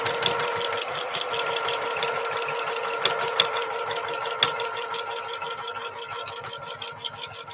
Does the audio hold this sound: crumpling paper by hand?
no